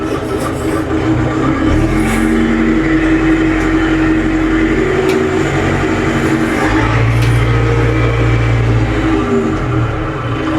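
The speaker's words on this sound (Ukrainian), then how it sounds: "Вмикаємо першу передачу і поїхали." A Euro Feng 554 Pro tractor pulls away in first gear, its engine a loud, steady diesel drone with low rumble that rises slightly in pitch as it moves off, close by and with no talking.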